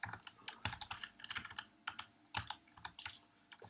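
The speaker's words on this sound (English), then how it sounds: "The faster I type, the worse it gets." Rapid typing on a computer keyboard during JavaScript coding, a dense run of close, crisp key clicks with uneven bursts and short pauses, with no voices.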